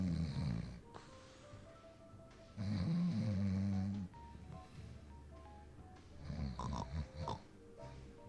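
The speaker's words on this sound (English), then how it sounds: "Constable Smith's blissful snoring is rather out of the Law and Order subject area" A police constable snoring in the Scott Whiskers video game, slow loud snores with snorting, pig-like rasps, several breaths in a row, with faint background sounds between them.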